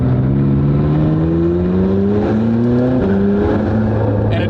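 Supercar on cold tires accelerating hard, its loud engine note climbing steadily with a couple of abrupt upshift breaks where the exhaust pops, the roar resuming each time; no talking.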